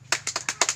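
A group claps out a quick, rhythmic pattern of about six crisp claps in under a second at a family-skills meeting. The claps are fairly faint, with no talk.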